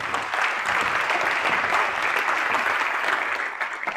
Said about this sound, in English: please give a warm welcome and a round of applause for the CEO and FundSeeder co-founder, Emmanuel Boulari.